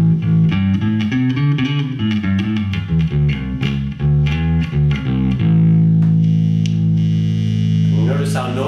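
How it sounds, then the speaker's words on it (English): A cheap Sire Marcus Miller P7 P-bass with noisy pickups plays a punchy, rhythmic line of plucked notes, then holds a long sustained note with a buzzy hum as a voice starts speaking. "Here we go with the cheaper P-bass, and you'll notice a difference in the sound right away."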